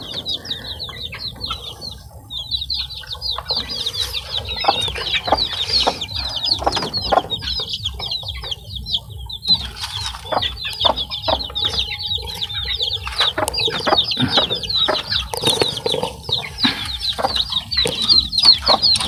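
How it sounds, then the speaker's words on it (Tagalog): Bulik breeder chickens on a poultry farm cluck and chatter constantly, with sharp overlapping calls and occasional wing flaps, close and lively throughout. "update po tayo dito sa mga ating palahing bulik na muling nagbabalik sa ating manukan"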